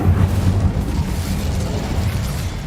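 A fiery Incendio spell is cast in the game Hogwarts Legacy, giving a loud, sustained low rumbling burst of flame that roars steadily for a few seconds with no talk over it.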